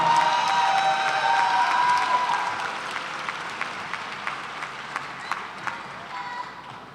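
Graduation audience at a UCR Black Graduation ceremony breaks into loud applause and cheering, the clapping thinning out over several seconds into a few scattered, distinct claps as the crowd settles.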